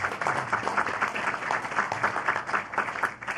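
Steady applause at a sheriff's station press conference, moderately loud and continuous for a few seconds, with a faint murmur of the gathered crowd underneath.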